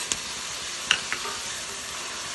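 Ginger garlic paste with tomato fries in an AMC cookware pan while making mushroom biryani. A steady, close sizzling hiss is broken by a few sharp pops and stirring clicks.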